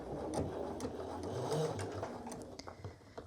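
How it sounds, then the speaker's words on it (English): A domestic sewing machine runs slowly around a sleeve hem, a soft mechanical whir with faint ticking, moderately quiet and steady for about three seconds, with a brief rise in the middle. "I am very slowly and very carefully sewing around the hem of the sleeve"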